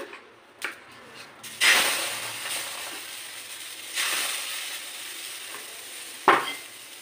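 Rice-flour batter for lacy white saruchakli is ladled into a hot wok, giving three separate bursts of loud hissing sizzle that fade into a softer frying hiss between pours.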